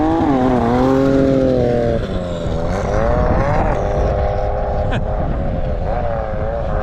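Snowmobile engine running steadily and loudly close by, its pitch rising and falling with the throttle, on a test ride after the season's first snow.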